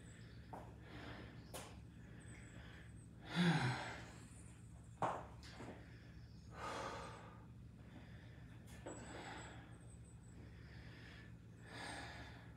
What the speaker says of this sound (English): I'd be happy if my breathing came down more.